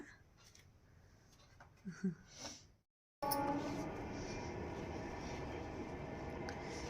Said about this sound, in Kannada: ಟ್ರೈನ್ ಸೌಂಡ್ ಎಷ್ಟು ಬರ್ತದ ಎಷ್ಟು ಓಡಾಡ್ತಾವ ಟ್ರೈನ್